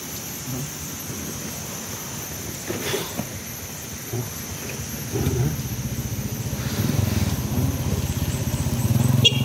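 Motorcycles pass by on a road in a rainy, stormy outdoor setting, their engines droning and swelling louder toward the end over a steady wash of rain and rumble.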